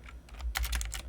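Close computer keyboard typing during a math problem session, a quick flurry of clattering keystrokes that grows denser midway, heard alone over a low room hum.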